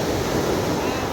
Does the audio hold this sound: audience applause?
no